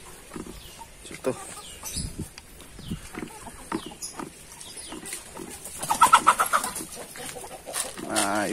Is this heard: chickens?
yes